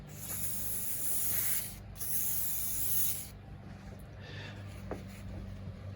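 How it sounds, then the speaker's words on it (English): Two long hissing bursts of a silicone lubricant aerosol spray onto window tracks, close up, separated by a brief pause, followed by quieter handling noises. "spray some silicone lubricant on the tracks on both sides"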